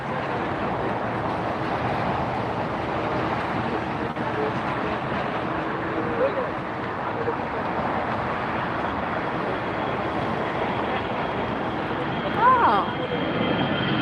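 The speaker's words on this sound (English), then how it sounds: "So that's a Dreamliner, Qantas Dreamliner." Qantas Boeing Dreamliner jet arriving at LAX, a steady broad engine roar at moderate distance that holds through the whole stretch, with a voice talking over it.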